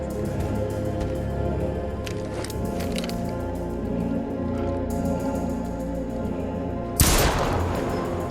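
Gunshots in the horror video game Little Hope ring out amid a dense, continuous game soundscape, with one sharp, loud crack standing out near the end.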